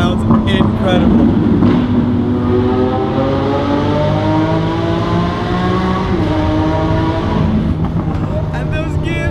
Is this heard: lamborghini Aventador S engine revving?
yes